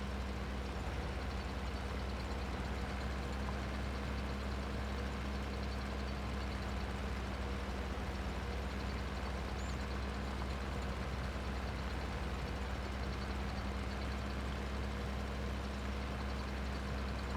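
A tractor engine in Farming Simulator 22, mulching grass in a grape vineyard, drones steadily at low pitch with a constant hum and rumble, unchanging and alone throughout.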